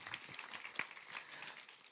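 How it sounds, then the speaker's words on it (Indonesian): Audience applause at a church online service on Independence Day: a brief, light patter of clapping from a modest crowd at moderate distance, steady and fairly soft, with no clear talk over it. "tepuk tangan dulu dong"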